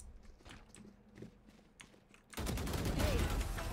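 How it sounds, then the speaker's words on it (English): Gunfire in the tactical shooter Valorant: faint scattered footsteps and clicks give way to a sudden, sustained loud burst of shots that continues to the end. "There were shots. He has shots."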